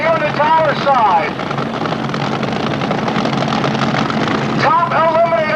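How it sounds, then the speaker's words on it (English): A Ford NDRA front-motored fuel dragster with a 392 cubic inch blown, injected engine roars down the left lane at Palmdale, a loud continuous engine drone under an announcer's voice, with rising and falling whine bursts. "Ford NDRA fuel dragster, 392 cubic inches over the left lane."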